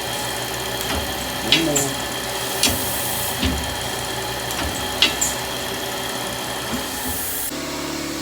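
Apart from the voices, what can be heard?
air compressor running for saw blade indexing machine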